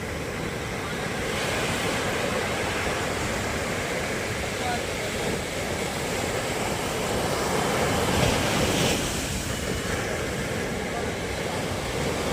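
Sea waves at Vizag beach wash in and out as a steady, continuous roar of surf, close and even in level, with a faint swell near the end.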